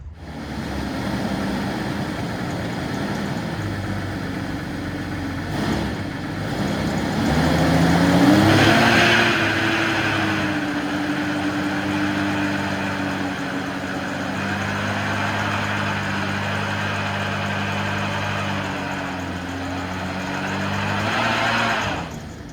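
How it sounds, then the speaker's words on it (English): A cheap mail jeep doing a burnout: a steady, close engine roar that climbs in a revving surge midway, holds high, then rises again near the end, with no talking. "We're gonna do a little burnout."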